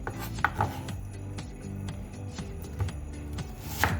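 A knife chops through an onion on a board in steady, brisk strokes, a run of close, crisp taps and scrapes with a few louder knocks, no talking.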